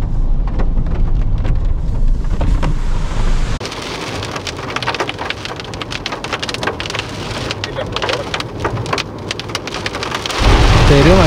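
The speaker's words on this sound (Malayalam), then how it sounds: "തെരുവ് മഴയാണ്" Heavy rain pours steadily over the Sholayar forest between Athirappilly and Valparai, a loud dense hiss with low thunder rumbling beneath and a swell of heavier downpour near the end.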